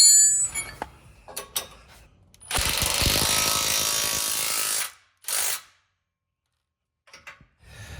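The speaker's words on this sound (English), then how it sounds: "use a 5/8" socket to secure the bolt in place" Socket wrench ratcheting a bolt while a rock slider is installed on a Jeep JL Wrangler Unlimited, with a sustained run of close, loud ratchet clicks, a short second burst and scattered metallic taps around them.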